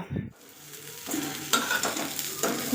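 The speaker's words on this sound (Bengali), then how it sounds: "গরম করে নিলাম একটু মাছগুলো" Leftover fish pieces heat in a pan, sizzling and frying steadily while a utensil stirs and scrapes them in a few brief strokes, close and clear with no talking.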